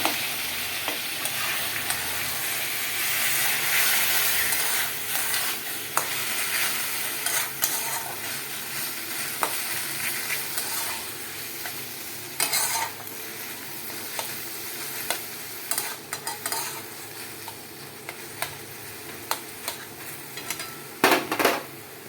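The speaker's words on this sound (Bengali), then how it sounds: "সেদ্ধ করে কচুর শাকটা ঢেলে দিলাম, ভালো করে নাড়িয়ে দেবো" Boiled taro leaves are stirred with fried onion in a pan, making a soft, continuous sizzle broken by frequent scraping and clacking strokes of a spatula against the pan.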